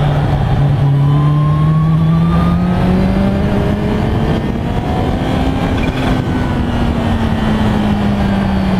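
Engine of a 2016 Kawasaki H2 supercharged motorcycle on a ride, a steady loud drone with a rising and falling whine layered over it, continuous and close, with no talking.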